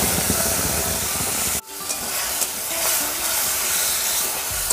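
Ground tomato paste is added to hot oil with black mustard seeds in a pan, making a loud, steady sizzling hiss that briefly drops out, then resumes close and continuous, with no talk.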